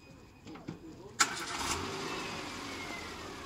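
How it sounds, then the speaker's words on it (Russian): A 2013 Renault Wind convertible's petrol engine cranks briefly and catches, then settles into a steady idle, recorded close by at an outdoor car market. "бензиновый двигатель."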